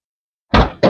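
The rear doors of a Peugeot e-Expert van are opened, giving two short, loud mechanical clunks close by after a moment of silence, the first a heavier thud and the second a sharp follow-up.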